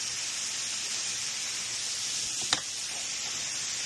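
Salmon and okra hitting a hot pan for stewed salmon, giving a steady, even hiss and sizzle throughout with one sharp click partway through.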